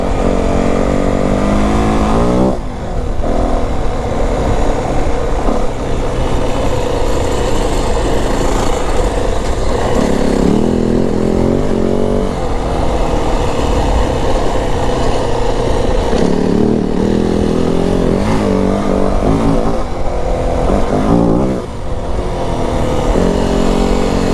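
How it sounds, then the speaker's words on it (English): A 2025 Yamaha WR450F dirt bike with an uncorked, fully open setup roars continuously while being ridden off-road, its engine revving up and down through throttle surges, loud and close with no speech. "bike's still a beast, man. It's still got a ton of power, dude."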